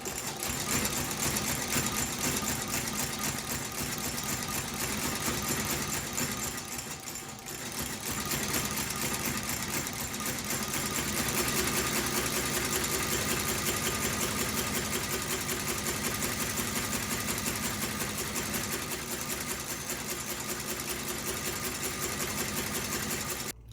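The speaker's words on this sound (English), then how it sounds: "stitch the midsoles to this welt" A sewing machine stitches rubber midsoles to the welt of a vintage Nike shoe, a steady rapid mechanical chatter running continuously up close, with one brief slowdown partway through and no talk.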